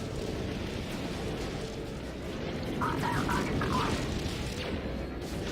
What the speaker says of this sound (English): Someone launch a missile inside the hangar?